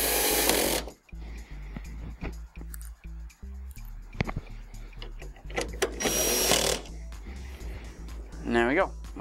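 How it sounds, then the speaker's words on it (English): A power screwdriver whirs in short bursts driving screws into the back cover of a Mitsubishi DLP television, with clicks and handling noise between spins and someone talking. "I'm going to take our two screws and put those in."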